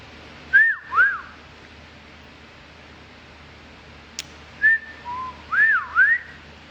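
A person whistles a few short rising and falling melodic phrases, clear and close, in two groups separated by a pause with a faint click, no talking.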